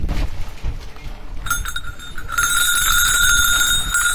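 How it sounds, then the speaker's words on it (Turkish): A metallic bell signalling the start of a competition in İslahiye's Democracy Square starts ringing partway through and keeps on steadily, growing louder and brighter, with a bright sustained tone over background noise. "Duydunuz zilin sesini, yarışma başladı."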